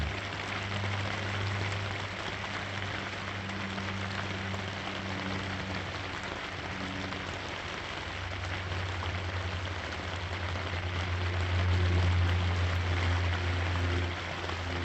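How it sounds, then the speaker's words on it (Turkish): Rain patters on a tent in cold, roughly five-degree weather, heard from inside as a dense, even hiss with a low hum beneath it and no voices. "Yağmurlu havalar."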